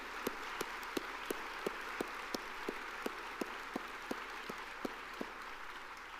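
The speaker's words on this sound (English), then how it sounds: "give yourself another round of applause" Audience applause at a university service recognition luncheon comes through faint and distant as a soft wash of clapping, punctuated by a regular series of sharper single claps close by.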